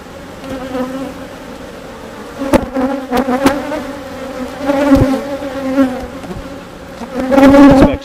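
Honeybees buzz close and loud around an open hive during inspection, a dense continuous drone with individual bees swelling in and out as they fly near.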